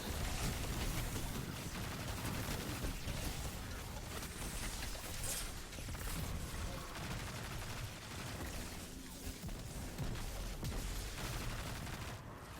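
Gunfire and explosions from Destiny 2 combat in a Legend Lost Sector, Exodus Garden 2A, with a Warlock using grenades and Leviathan's Breath bow shots. It is a dense, loud, continuous barrage of shots and blasts with no talk.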